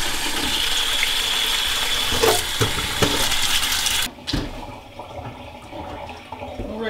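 Water running into a water bath canner and glass jars for canning banana peppers, a steady rushing pour with clinks of glass, then quieter splashing after the flow cuts off.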